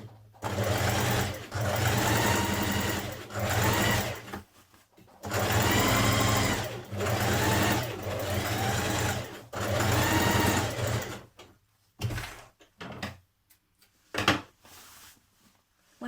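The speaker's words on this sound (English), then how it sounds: "we're going to do a line of stay stitching a few millimetres away from the edge of your neck edge" A sewing machine runs a straight stay stitch around the neckline of a New Look 6145 spring dress, its motor whirring in several sustained bursts with short pauses between, then a few brief clicks and taps near the end.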